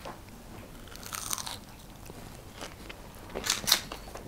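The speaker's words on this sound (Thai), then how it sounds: "กรอบข้างนอกจะมีเม็ดงาเพิ่ม texture ค่ะมันก็จะเคี้ยวแบบ หยุ่นหยุ่นนุ่มนุ่มกรุบกรุบกรุบกรุบ" Someone bites into and chews crunchy, sesame-coated dim sum at a hotel dim sum buffet, giving two sharp, close, quiet bursts of crunching between softer chewing, with no talking.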